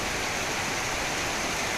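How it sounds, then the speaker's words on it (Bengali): A steady wash of heavy rain, a continuous even hiss of falling water with no pauses or voices. "হঠাৎ করে সকালবেলা বৃষ্টি শুরু হয়েছে। খুবই বৃষ্টি।"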